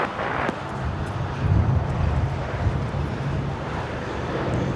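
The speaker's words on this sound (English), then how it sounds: "2445 coming in from Newark on the 787-10 Dreamliner" A United Airlines Boeing 787-10 Dreamliner arriving at Los Angeles from Newark, a steady broad jet roar at moderate distance, swelling slightly midway and holding through, with wind rumble underneath.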